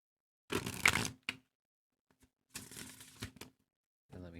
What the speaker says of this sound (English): let me shuffle these one more time